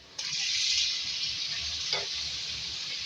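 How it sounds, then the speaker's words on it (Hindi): Four medium chopped tomatoes hit a hot pan and start frying, with a loud sizzle that flares suddenly and then holds steady. A soft clink of a utensil stirring comes partway through. "अब उसमें 4 मीडियम साइज़ के चॉप टमाटर ऐड करेंगे।"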